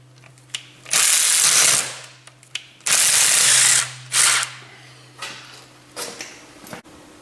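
A hand ratchet loosening 15 mm engine mount bolts on a Dodge Viper, heard as several short bursts of rapid clicking separated by pauses and softer clinks, close and fairly loud.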